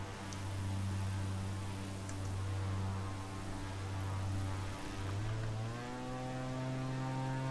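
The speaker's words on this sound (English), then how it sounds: "We've actually got engine noise" A propeller aircraft engine in Microsoft Flight Simulator 2020 drones steadily, a loud harmonic hum that dips briefly and then settles at a slightly higher pitch, with no talk over it.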